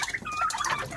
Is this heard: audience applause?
no